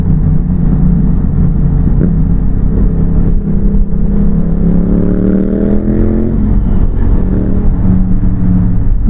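A 700 motorcycle fitted with an aftermarket exhaust revs loudly and steadily close by, its engine note climbing in pitch midway before settling into a constant drone.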